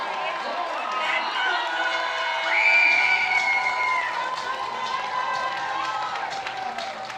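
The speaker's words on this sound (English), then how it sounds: "they're helping cheer on the Highclimbers as they come out" A crowd with children's voices cheers and shouts continuously as the Highclimbers football team runs onto the field at a Black Hills versus Shelton game, a steady wash of crowd noise with a brief louder swell and voices mixed in.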